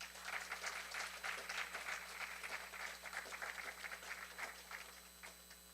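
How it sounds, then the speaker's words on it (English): Audience applause for the semifinalist judges at a biotech pitch competition in New Orleans, a sustained patter of clapping from a crowd, fairly faint and even throughout. "Let's please give a round of applause to our semifinalist judges."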